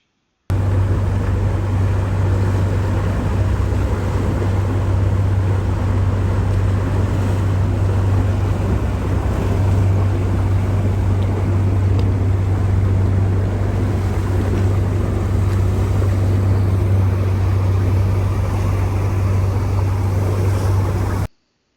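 A 27-foot outboard boat cruises past medium-sized icebergs in Tracy Arm, Southeast Alaska. Its loud, steady engine drone is close and continuous, with a rush of water and wind over it and no voices.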